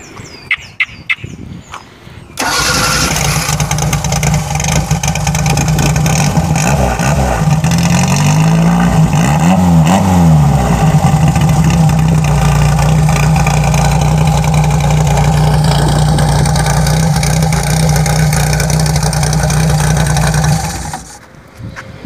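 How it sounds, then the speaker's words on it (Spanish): A Fiat 600 engine cranks and catches, then settles into a steady, loud idle with a few revs in the middle, close up with no talking. "Ahora lo vamos a poner en marcha para que también puedan escucharlo."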